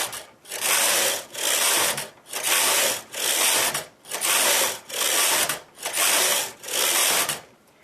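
Machine knitting carriage swept back and forth across the needle bed while knitting rows of fern lace, giving eight even, loud mechanical rasping passes with short gaps between strokes, heard alone.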